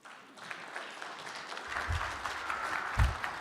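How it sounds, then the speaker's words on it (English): Conference audience applauding a speaker being introduced, dense clapping that builds gradually, steady and moderately loud, with a couple of low bumps near the end and no talk over it. "If I get a nice big round of applause for Spenser Reinhardt."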